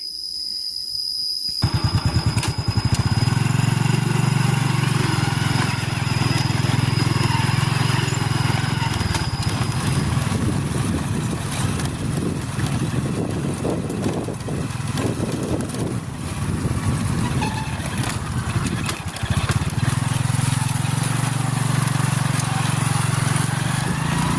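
A motorcycle engine runs steadily and loudly close by throughout a ride along a rural path, with a low droning rumble that shifts slightly in pitch as it travels and a brief quieter start.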